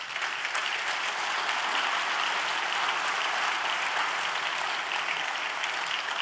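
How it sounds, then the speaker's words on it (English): Steady, dense applause from a conference audience cheering a successful live software demo, loud and continuous throughout with no gaps. "Round of applause for a live demo, please."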